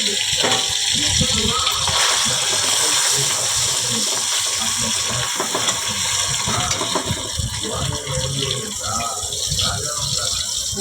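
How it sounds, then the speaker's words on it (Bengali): Fish fry in plenty of hot oil with a loud, steady, broadband sizzle that runs without a break. A voice talks over the frying. "মাছগুলো ভাজছি"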